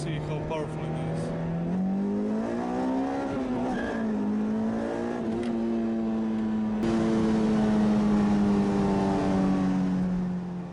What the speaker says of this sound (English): So let's do an acceleration from first gear to see how powerful it is.